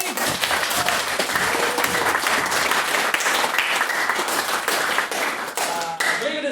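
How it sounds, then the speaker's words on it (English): Audience applause at a debate event, sustained and energetic, many hands clapping at close range with sharp individual claps standing out, and some voices underneath. "let's give them a round of applause for their efforts"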